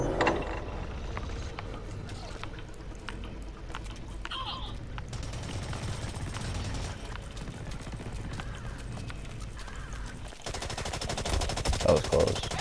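Rapid automatic gunfire from Blacklight: Retribution rattles almost continuously over a low background hum, pausing briefly before a final stretch of louder bursts.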